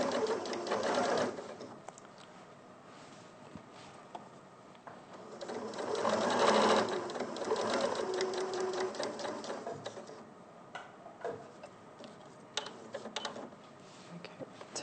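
A sewing machine runs steadily as it top stitches close to the edge of fabric, with a louder stretch midway. It is heard near and alone, with a few light mechanical clicks.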